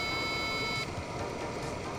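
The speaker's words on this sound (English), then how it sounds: "if you have a PC speaker, it will play a long beep, which I managed to catch on video" A PC speaker gives a long, steady electronic beep during the hardware detection stage of Windows Longhorn setup. The tone holds for under a second and cuts off, leaving a quiet background hum.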